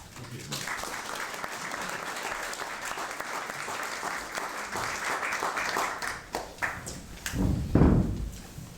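An evening audience at Wentworth Villa breaks into sustained applause welcoming a first speaker, steady dense clapping filling the room and then tapering, with a few thumps near the end.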